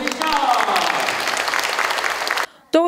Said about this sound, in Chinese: 各位乡亲，我们是不是先给我们南港分局所有的同仁掌声